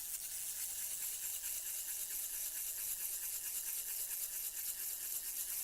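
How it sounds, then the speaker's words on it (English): Rubber motor of a model airplane being wound with a 6-to-1 hand winder, a continuous fast whirring and rattling buzz held at an even level throughout, close and fairly quiet. "This one's a 6-to-1 winder, so I'm going to start with about 50 turns."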